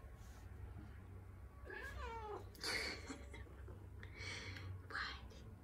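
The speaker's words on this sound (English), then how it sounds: "Are you purring?" A cat meows several times at close range, including a sliding, wavering call, with soft breathy sounds in between and a steady low hum underneath.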